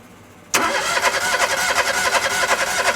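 A car engine cranks over steadily with a starter during a compression test on cylinder number three, sounding as a loud, close, rhythmic chugging that begins abruptly after a short quiet moment and continues evenly to the end.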